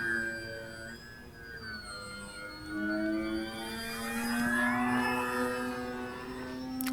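An RC Tecnam 2010 model plane on floats in flight, its electric motor giving a steady whine that rises and falls in pitch as it passes at moderate distance.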